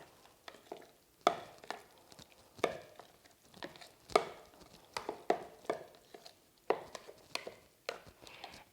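Diced green onion being mixed into a low-carb sour cream beef bake, with irregular spoon scrapes and soft clacks against the dish, close and fairly loud, and no talking.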